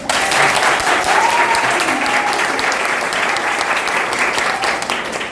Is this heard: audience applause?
yes